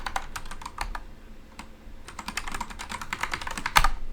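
Typing a terminal command on a computer keyboard, with rapid, irregular close key clicks and one sharper, louder keystroke near the end, like a final Enter press.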